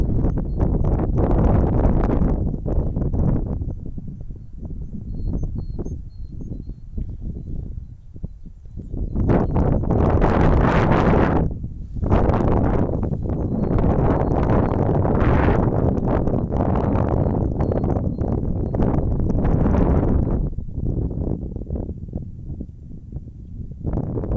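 Heavy wind buffeting the microphone in long roaring surges over snow-covered ground, dipping briefly and swelling again, loud and continuous throughout.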